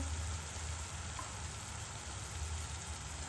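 Chopped tomatoes with salt fry in a pan, giving a faint, even sizzle with a low background hum. The sound stays steady and soft throughout, with no talking over it.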